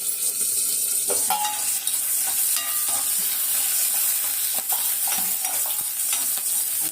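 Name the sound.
dried red chillies frying and being stirred in pan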